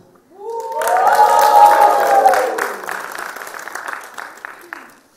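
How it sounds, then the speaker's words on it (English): An audience at a stand-up comedy show bursts into loud applause and cheering that swells, then fades out. A voice calls out at the start. "Give me a cheer for all the women who have held you up"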